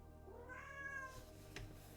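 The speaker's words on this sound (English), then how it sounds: "Kitty, stop yowling at the door." A pet cat yowls at a door, one drawn-out wavering cry rising and falling over about a second, followed by a faint bump, in a quiet room with no speech.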